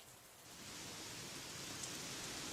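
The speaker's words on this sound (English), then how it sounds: "It's raining cats and dogs again." Heavy rain falling as a dense, steady hiss that swells slightly and holds constant, with no voices.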